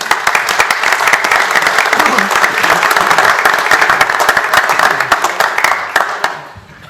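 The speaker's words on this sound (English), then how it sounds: "let's give them all another round of applause" Sustained applause from the audience at a city council meeting honoring recent graduates, dense steady clapping with scattered louder claps for about six seconds before fading out quickly at the end.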